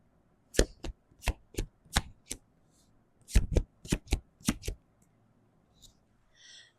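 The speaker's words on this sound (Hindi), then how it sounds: "now I am gonna shuffle the cards" Tarot cards shuffled by hand in quick riffling bursts, about a dozen sharp close slaps in two clusters separated by a short pause, with faint background noise afterward.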